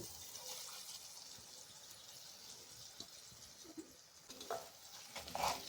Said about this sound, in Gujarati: બધું જ આપણે અહીંયા સરસ સાતરી લઈશું